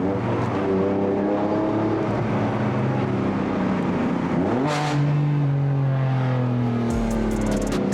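BMW M4 with Akrapovic exhaust on a Stage 2 build, driven as a convertible with the top down, accelerates hard through a tunnel. A loud, continuous engine roar climbs in pitch, drops at a gearshift, then climbs again, with echoing exhaust crackle at the end.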